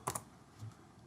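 Two quick clicks from a computer keyboard, close together at the start, then near silence; quiet and close-up.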